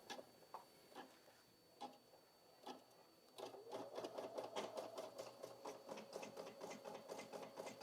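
Brother SE1900 embroidery machine stitching: a few scattered mechanical clicks at first, then a steady, rapid, rhythmic needle chatter that carries on at close range, with no talking.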